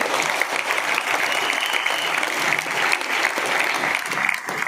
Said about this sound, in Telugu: వీళ్ళకి ఒకసారి క్లాప్స్ ఇవ్వండి